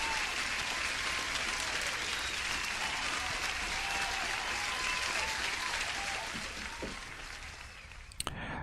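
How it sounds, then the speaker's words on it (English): Dense, steady applause plays on a livestream, a continuous wash of clapping at even loudness that thins slightly near the end before a couple of sharp clicks. "Let me give you an applause."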